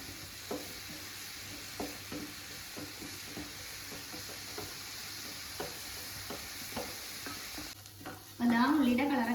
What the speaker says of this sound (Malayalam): ഫ്ലെയിം ഒരു മീഡിയത്തിൽ വെച്ചിട്ട് നന്നായിട്ട് ഇളക്കി കൊടുക്കുക